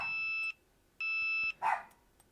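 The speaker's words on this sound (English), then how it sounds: "We'll wait until my dog quiets down." A dog barks once, sharp and close, indoors, following two long steady electronic beeps.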